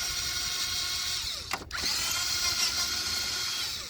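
Power tool working bolts loose on a 2003 Toyota Avalon 3.0 L V6 during a starter replacement, a steady whirring drive with a brief interruption partway through, fairly faint and close, with no talking.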